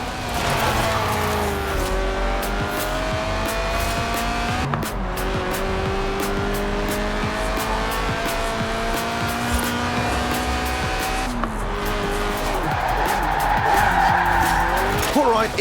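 A small car slides completely sideways in Forza Horizon 4, its tires squealing long and loud over a continuous revving engine, with the squeal sweeping up and down in pitch as the drift carries on.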